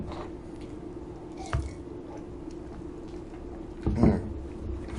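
Two separate swallows of water stand out clearly over a constant low hum, the first faint and the second louder, near and isolated.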